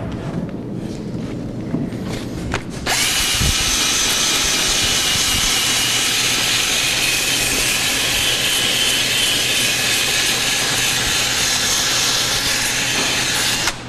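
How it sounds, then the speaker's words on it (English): Power sander smoothing glue on an aluminum shoe on a horse's hoof runs loud and close with a steady, broad whirring roar after a brief quieter start. "We'll just hit it with the sander and just clean it up a bit."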